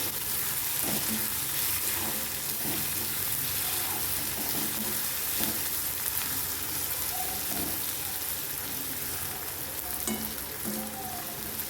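Upma mixture with turmeric being stirred in a hot pan, with a continuous close sizzle and frying crackle and light scraping from the stirring, and no one talking.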